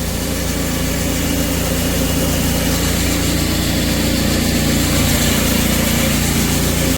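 A tractor engine running steadily near a shed, a loud, even idling drone with a constant hum and no change in pace throughout.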